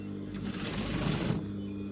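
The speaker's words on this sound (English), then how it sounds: "I'm aiming to stitch right in the centre of the overlocking" Sewing machine running steadily while stitching a turned-over skirt hem through the centre of the overlocking, a continuous close whir lasting nearly two seconds with no talk.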